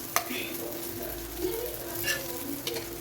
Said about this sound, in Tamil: பாருங்கள், எவ்வளோ சூப்பராக ஃப்ரை ஆகுது.